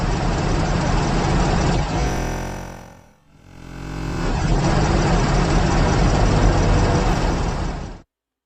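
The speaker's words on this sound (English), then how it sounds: "Yeah, he sounds like he's on a tractor." An engine drones steadily in the background, fading briefly to a dip and then returning at the same level before cutting off abruptly, with faint talk at times.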